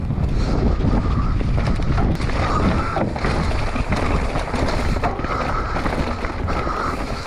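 Strong gusting wind buffets the microphone on an exposed hillside at a mountain bike park, a loud continuous roar and rumble with uneven surges and thumps.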